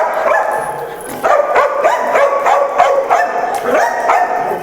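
A protection-trained dog barks in a rapid, loud, close run of sharp repeated woofs with a few yips, carrying through the whole stretch without a break.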